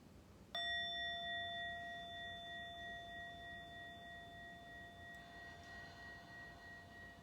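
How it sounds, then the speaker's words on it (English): A single bell or singing-bowl strike during a yoga breathing practice, ringing with a clear sustained tone that slowly fades over several seconds, alone without talk. "listen to the sound of the bell and take a big deep breath in"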